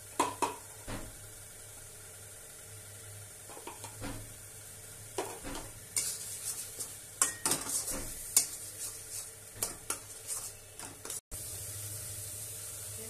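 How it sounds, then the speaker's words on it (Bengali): Spice masala for Bengali ghugni frying in oil with turmeric in a pan, a steady low sizzle punctuated by rhythmic scraping and clinking of a ladle against the pot. "মশলাটাকে ভালো করে কষাতে হবে"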